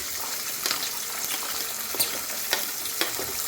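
Peas and onions go into a hot pan of oil for upma and sizzle steadily with a dense, bright crackle, while a few louder pops and spatters rise above it. No one speaks.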